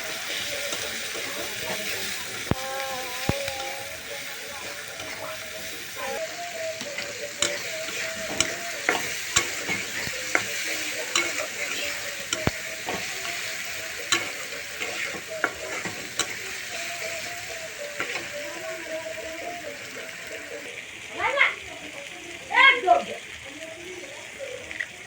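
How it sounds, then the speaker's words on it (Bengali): Chopped tomato, onion and chili fry in a pan while a spoon stirs them, giving a continuous soft sizzle with scraping and clinks, close by, under a talking voice. "তারপর ভালোভাবে পেঁয়াজ মরিচের সাথে টমেটো কুচিগুলো মিশিয়ে নেব"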